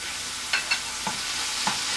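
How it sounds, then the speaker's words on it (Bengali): Tomato paste fries in a pan for a fish dopiaza, with a steady soft sizzle and a few light scrapes and taps from stirring, close and moderately quiet, with no talking. "টমেটো পেস্টটাকে দিয়েও আমি ভেজে নেব সুন্দর করে"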